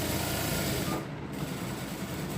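Sewing machine stitching a ladies' pant, a steady close whirring run that continues without a break and eases slightly partway through, with no talk.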